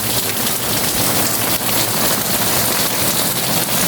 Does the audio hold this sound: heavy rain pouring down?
yes